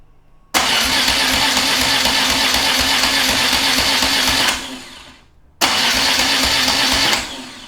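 Motorcycle engine cranked by touching ignition wires together: two loud, steady whirring bursts of about four seconds and two seconds, with a short silent gap between, close and alone.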